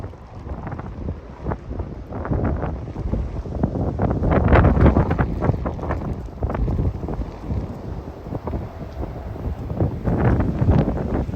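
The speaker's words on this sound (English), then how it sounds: "That wind is still fierce." Fierce wind at a barn under construction in the woods, gusting and buffeting loudly against the microphone in uneven surges, with no one talking.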